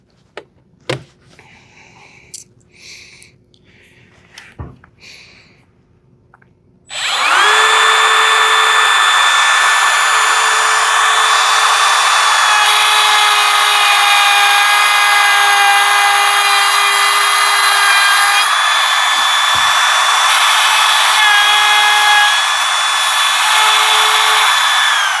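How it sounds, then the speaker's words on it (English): Router cutting into the end grain of a clamped solid wood kitchen cutting board, starting abruptly after quiet handling noises and holding a loud, steady high-pitched whine with slight variations in load throughout. "I want to route the end grain before I route the edge grain"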